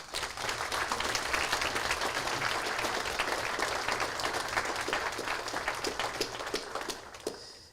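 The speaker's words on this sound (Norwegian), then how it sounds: "og en varm applaus til alle de." Warm audience applause for a team at a company event unveiling a race car: a broad, even wash of many hands clapping, sustained and fairly distant, tapering slightly at the end.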